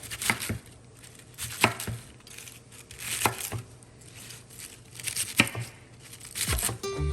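A knife slices through a head of cabbage in a kitchen, giving crisp, crunchy cuts at an irregular pace roughly every second or two, close up and without speech.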